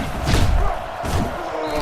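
Heavy padded football tackle impacts from Madden NFL 09 on PlayStation 3: loud overlapping thuds and crunching collisions with crowd-like game noise beneath, no talk.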